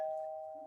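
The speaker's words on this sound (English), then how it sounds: "that's the doorbell, but I'm gonna ignore it" A single doorbell tone rings during an online webinar, a clear sustained chime that fades over under a second, heard alone at moderate distance.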